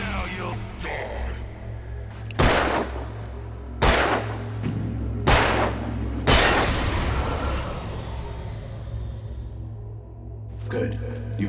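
Gunfire in the video game Alan Wake: five or six sharp, heavy shots crack out at irregular intervals over a low ambient drone, followed by a faint burst of clatter near the end.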